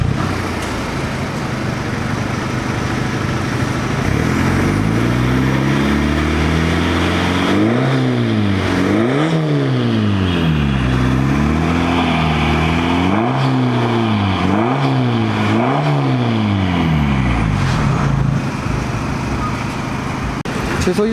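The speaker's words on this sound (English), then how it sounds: "with the exhaust note of a 2-liter TDI in the end" A tuned 2.0-litre TDI diesel car revs repeatedly, its loud exhaust note rising and falling in steady sweeps as the throttle is blipped, close and continuous throughout.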